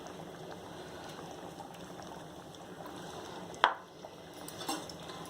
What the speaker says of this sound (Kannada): ಇದು ಚೆನ್ನಾಗಿ ಕುದ್ದಿದೆ.